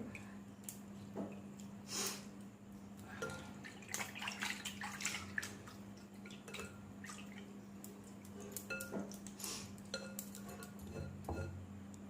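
Water sloshes and drips as homemade mozzarella curd is washed by hand in a bowl, with soft splashes and occasional clinks against the dish, steady and close with no talking.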